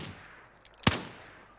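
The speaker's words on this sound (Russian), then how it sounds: "Два раза выстрел." A single sharp gunshot cracks loudly in the Wild West survival game New Frontier, preceded by faint clicks and followed by a short decaying tail, with no voices.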